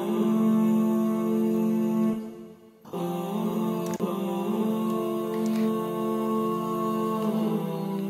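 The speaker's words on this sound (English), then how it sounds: "And there's a choir happening as well." A choir built from many layered takes of one voice, low-passed so it sounds muffled and warm, holds sustained chords; a brief dip near the middle breaks the drone before the layered voices return steadily, with no talking.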